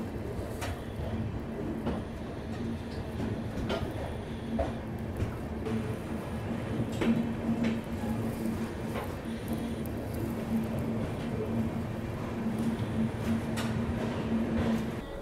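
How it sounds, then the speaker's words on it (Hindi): Jaipur–Gomtinagar express train rolling along, a steady muffled rumble heard from inside the coach with a faint sustained tone and scattered soft clicks and knocks throughout. "यहाँ पे अपनी जो ट्रेन है पहुँच गई है कानपुर अनवरगंज रेलवे स्टेशन।"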